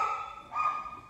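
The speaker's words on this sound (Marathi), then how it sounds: "कुत्र भांडतंय" Dogs in a village barking and squabbling, with tense, strained calls that rise again partway through; close and fairly loud, with no other sound over them.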